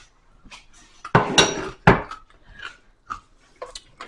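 Bacon being mixed into a potato filling in a kitchen bowl, with a few loud clattering scrapes and clinks of utensil against dish, then softer intermittent stirring knocks.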